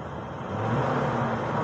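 A Toyota engine with low oil pressure revs up from idle, a low rumbling hum that swells partway through and holds, moderately close.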